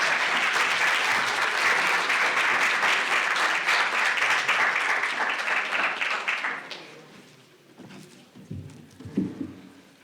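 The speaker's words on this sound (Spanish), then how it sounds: "Pido un fuerte aplauso para el doctor Raúl Guillermo Ornelas Bernal" An audience applauds a speaker at a scientific lecture, loud, dense clapping for about seven seconds that then quickly dies away to scattered shuffling noise.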